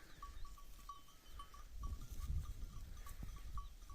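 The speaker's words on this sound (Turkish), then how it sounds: "Koyunlar maşallah şu Merinos cinsleri ile de Franslar" Merino and Ile de France sheep bleat repeatedly in short, fairly faint calls over steady outdoor rumble and wind, with a bell tinkling now and then.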